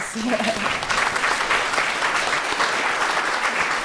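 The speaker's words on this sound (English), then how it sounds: "give them big applause" Audience at a Sunday gathering applauds retreat participants, a full, steady burst of clapping that carries at even strength throughout, with a brief voice at the start.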